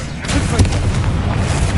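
Confringo explosive spell going off in Hogwarts Legacy: a short run of heavy booming blasts and pops that stays loud and rumbling throughout, with a sharper hit in the middle.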